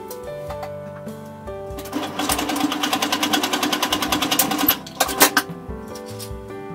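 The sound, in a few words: sewing machine stitching fabric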